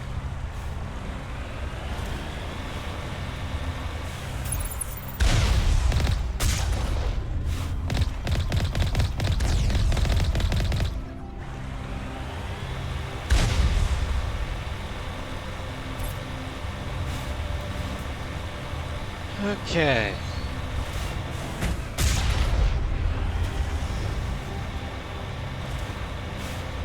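A vehicle's main cannon firing in the Mass Effect video game: several heavy booming blasts with rumbling tails, spread across a droning engine background, and a voice speaks briefly.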